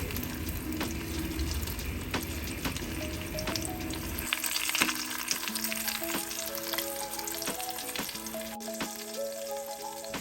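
Salmon fillets frying face down in a pan used for spinach, a steady close sizzle and crackle that continues throughout, with occasional light clatter and no talk.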